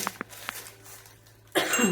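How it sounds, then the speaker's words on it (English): A woman coughs in a few short, sharp bursts close by, followed by a brief rustle or clatter near the end. "Excuse me guys, I've got a little bit of a cough today."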